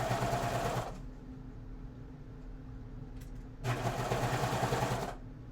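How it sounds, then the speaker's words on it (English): A serger sewing machine stitches a thrifted shirt in two loud, steady whirring bursts, the first about a second long and the second about one and a half seconds, with a low mechanical hum during the pause between them. "We're just gonna sew a little more."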